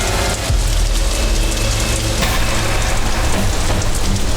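Rain pours down steadily, a loud, dense wash of drops hitting surfaces with a low rumble underneath, continuous throughout and with no voices.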